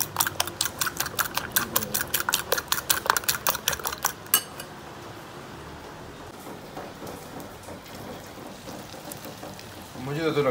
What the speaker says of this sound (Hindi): जी ड्यूटी हमारी लग गई अंडे फेंटने के ऊपर